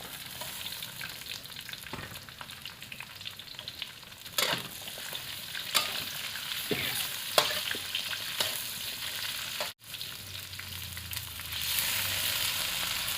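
Sliced cucumber with garlic, and hot dog, stir-fry in a hot pan, a steady sizzle broken by repeated scrapes and clacks of the spatula, with a louder hiss near the end.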